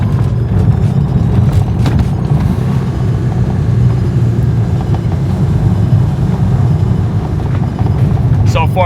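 Porsche 986 driving over rough road surfaces, with dense, loud low road and engine rumble throughout and occasional bumps and rattles, a car close behind in the same convoy.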